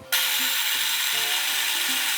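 A Ninja Luxe Café Premier grinder runs on beans at a cold-brew grind setting, giving a loud, continuous whirring buzz with a gritty, rasping texture that starts abruptly and carries on steadily.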